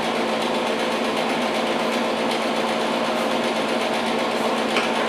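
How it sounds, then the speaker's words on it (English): Metal tabs being welded onto a steel workbench base, a loud continuous buzzing crackle of the welding arc, steady and close for the whole stretch. "Time to weld our little tabs on here."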